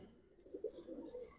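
A pair of Tambalal pigeons at an Old Dhaka pigeon farm give a soft, brief cooing, quiet and close.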